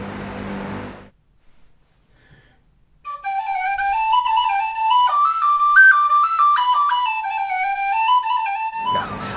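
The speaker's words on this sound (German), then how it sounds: "auf kleinen Pfeifen und auf großen Pfeifen." After a brief pause, a whistle sounds in a long, warbling melodic line, rising and falling in pitch, fairly loud and close.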